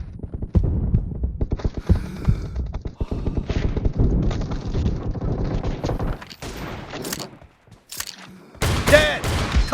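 Shotgun fire in a video game comes as rapid, dense bursts of close, heavy blasts, then a pause and a few sharper separate shots with bright metallic game effects.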